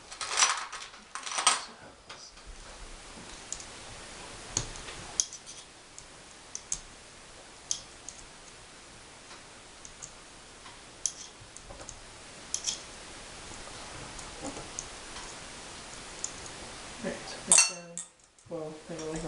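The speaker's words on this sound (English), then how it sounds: "next is I'll separate the two halves of the gun" Two halves of an Empire Axe paintball gun are pulled apart on a work surface, giving scattered metallic clicks, taps and small clatters at close range over a quiet background, with a brief bump of handling near the end.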